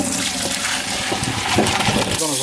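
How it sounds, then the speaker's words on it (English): Cooked egg noodles are drained for beef stroganoff, with a steady close rush of pouring water splashing continuously throughout. "Okay, so our egg noodles are nice and done. We don't want them to get too chewy, so I'm gonna go ahead and cut them off and drain them off."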